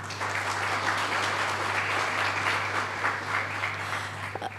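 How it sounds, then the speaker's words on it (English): Sustained applause from a tech conference audience at AWS Community Day Nashik 2023, dense steady clapping that holds at an even level throughout, with a low constant hum underneath. "please give them a round of applause."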